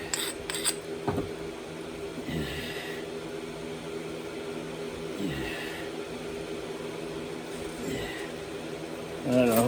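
A blade whittles and chips at a workpiece in a handful of slow, separate scraping strokes, spaced a few seconds apart, close and fairly quiet against a steady low hum.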